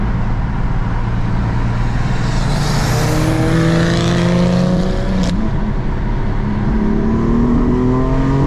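A 2015 BMW M4's S55 engine revs hard toward redline from the driver's seat, its loud roar climbing in pitch through successive pulls with a brief shift break, steady and dominant throughout.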